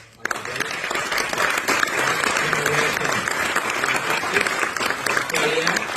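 Applause from an audience at a Carnatic music birthday tribute concert for a percussion guru at Monash University, a sustained round of many hands clapping with scattered voices, building after a quiet start.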